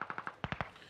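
Machine gun fire in an online shooter video game comes as rapid close bursts of about eight sharp shots in under a second, with no voices.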